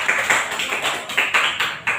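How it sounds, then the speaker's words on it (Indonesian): A short burst of scattered hand clapping from a small group in a classroom, uneven and fairly close, lasting a couple of seconds without voices. "Tepuk tangan."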